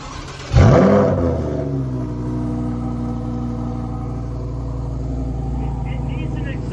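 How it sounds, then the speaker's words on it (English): A stock-exhaust coupe engine cranks and catches with a loud burst, then revs and settles into a steady, throaty idle rumble close by. "All right, fire this thing up."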